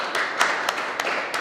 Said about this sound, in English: Shall we give them a little round of applause?